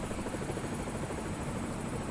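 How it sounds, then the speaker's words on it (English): An A-Star B-2 helicopter flies high overhead on a short supply flight, its rotor making a steady, distant, faint drone with no other sounds. "If you look up, you can see the helicopter high above. It's an A-Star B-2 operated by Talon Helicopters."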